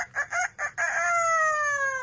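A parrot mimics a rooster's crow: several short choppy syllables give way to a long, drawn-out call, close and clear over a quiet room.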